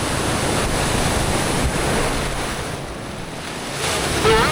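Ocean waves wash ashore at a beach in Caramoan, Bicol, as a continuous broad rush of surf mixed with wind buffeting the microphone, with a swell in loudness near the end.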